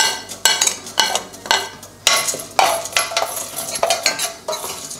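A spoon stirs urad dal, chana dal and fenugreek seeds frying in oil in a pan for Kerala sambar. Close, rhythmic scraping strokes ring on the metal over a light sizzle.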